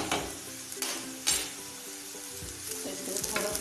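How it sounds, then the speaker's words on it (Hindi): Garlic tipped into onions already frying in a pan, giving a loud, continuous sizzle and crackle with a few sharper bursts as the pieces are stirred. "इसमें हम डाल देंगे लहसुन।"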